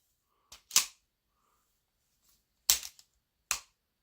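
Replacement slide on a Tisas pistol being racked and sticking on the frame: a handful of sharp metallic clicks and clacks, separated by silent pauses, close and fairly crisp.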